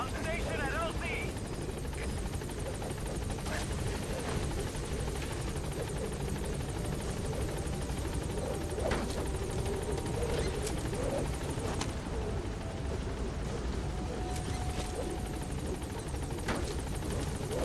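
The Pequod helicopter from the Metal Gear Solid V video game arriving at a landing zone, its rotor a loud, continuous thudding drone throughout, with brief voices over it.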